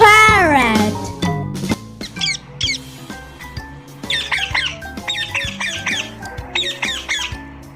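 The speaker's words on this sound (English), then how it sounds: "P for parrot." A parrot squawks in a rapid run of bright, chirpy calls, loud and close, following a swooping whistle-like opening, with a cartoonish backing beneath.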